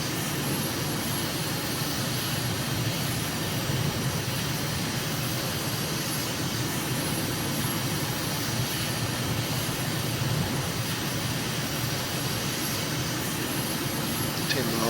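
A general aviation aircraft in Microsoft Flight Simulator drones steadily in cruise over Mogadishu, a constant, even engine hum holding at moderate level throughout.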